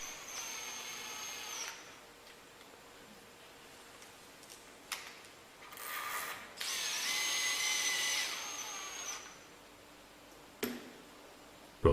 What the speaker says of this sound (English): screw on the handle using included M5 to 40 mm screws